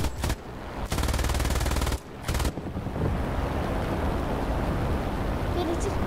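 Bursts of machine-gun fire from aircraft guns in War Thunder, two loud rapid-fire volleys up close, then steady engine and wind roar with scattered distant shots; voices talk over it.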